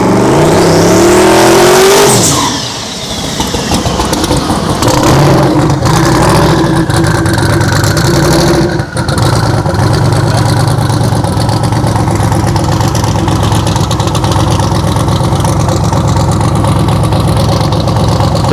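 A 4th gen Camaro roars down a dragstrip, its loud engine revving hard at launch and then holding a steady, heavy drone as it accelerates away.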